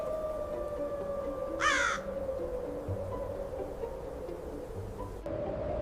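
Crows cawing in a city, a short burst of several harsh caws at mid-distance over a steady urban hum.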